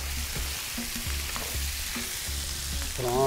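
Onion and roasted garlic cloves fry in a pan, a steady hissing sizzle under low rhythmic thumps and a few utensil scrapes, ending with a short rising tonal squeal, no speech.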